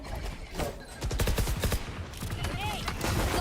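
Rifle fire in a Valorant esports match, with quick bursts of gunshots under excited commentary from a caster.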